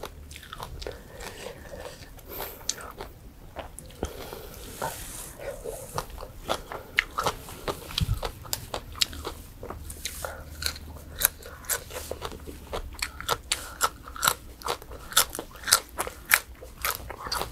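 Crispy deep-fried pork tail skin crunched and chewed up close, a long run of sharp irregular crackling bites and brittle snaps with chewing in between, no talking.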